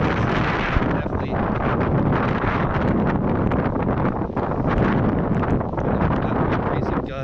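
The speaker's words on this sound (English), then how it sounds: "That crazy gust that we just got." Hurricane Florence's strong gusts in North Carolina roar continuously and loudly, buffeting the microphone with dense, unbroken wind noise throughout.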